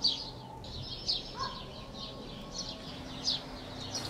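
Wild birds near a maggot composter barrel in an orchard give faint, repeated chirps and short calls at an irregular pace, quiet and somewhat distant with no talking.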